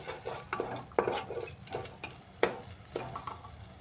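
Spices and chopped tomato with a spoonful of chana masala are being sautéed in a pan, with a spatula scraping and clacking in steady, sharp strokes over a soft, continuous sizzle.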